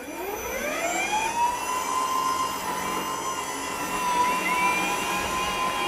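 A lawn scarifier runs with its blades lowered deeper into the turf, making a loud, steady whining motor drone whose pitch rises at the start and then holds, close by with no speech.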